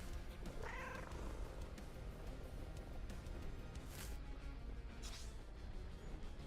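A cat purring in the video game Maliki: Poison of the Past, a steady, low, continuous rumble running through the whole stretch under a busy game soundscape, with a couple of brief brighter swells.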